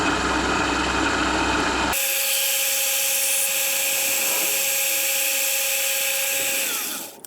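A power drill enlarges a bolt hole in a metal bracket, a loud steady whine with grinding texture that runs for several seconds and then winds down at the end.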